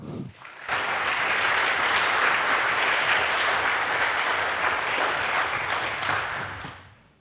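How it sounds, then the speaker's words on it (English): A crowd breaks into loud, sustained applause that holds steady for several seconds before tapering off. "please give a very warm round of applause to Russell."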